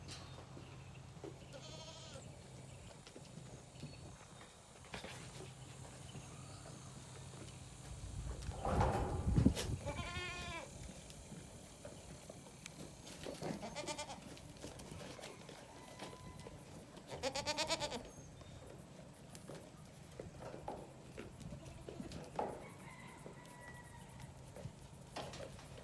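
Goats bleat on a farm, several calls spread across the stretch with a louder cluster near the middle and another later on, over steady background hum and faint rustling.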